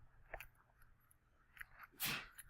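A single quick, breathy sneeze bursts out near the end of a quiet stretch, after a few faint small noises.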